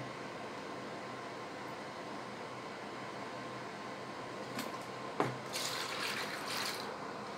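A quiet room, then a soft clunk followed by a brief stream of about 750 ml of cold milk being poured into a container for a couple of seconds.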